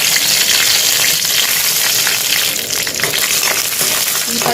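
Green chillies fry in a little oil for tomato chutney, giving a loud, dense, continuous sizzle and crackle close up, with faint stirring underneath and no speech.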